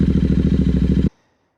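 A Royal Enfield GT650 twin fitted with Nuke Little Boy Pop slip-on exhausts revs close by, giving a loud, deep, pulsing throb that holds steady for about a second, then cuts off abruptly into near silence.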